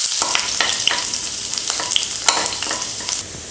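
Chopped garlic hits hot oil with mustard seeds in a kadai, a bright, close sizzle crackling steadily while a spoon scrapes and stirs in irregular clicks, with no voices.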